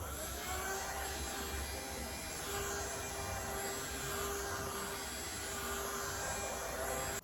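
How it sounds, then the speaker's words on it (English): Handheld electric fan blowing steadily during a facial skincare routine, giving a continuous close whirring hum with a faint electrical buzz that holds unchanged throughout. "just to make it a bit faster, I'll be using my hand fan."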